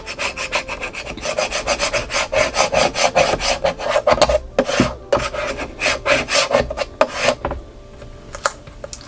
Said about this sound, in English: I'm just gonna use the scraper to transfer this over.